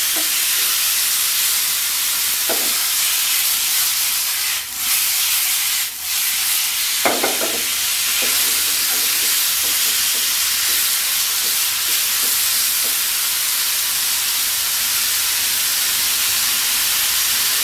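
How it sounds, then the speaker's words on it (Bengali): Chicken pieces frying in a pan, a steady loud sizzling hiss lasting throughout, with a few faint clinks and stirring knocks from utensils, close up and without talking. "মাংসগুলোকে হালকা আছে খুব সুন্দর করে ফ্রাই করে নেবো আমি"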